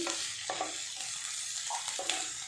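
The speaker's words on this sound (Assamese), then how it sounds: "এইটো আদা নহৰু গোন্ধটো যোৱালৈকে ভাজি থাকিম।" Ginger garlic paste frying in hot oil, a steady close sizzle with a few sharp stirring scrapes of a utensil against the pan, no voices.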